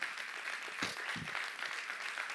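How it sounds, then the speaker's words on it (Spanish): A church congregation applauding during a pastor's sermon on family values and tithing, a steady wash of hand claps through the whole stretch, moderately distant and fairly soft. "Extraño que gente aplauda cuando se habla de mal."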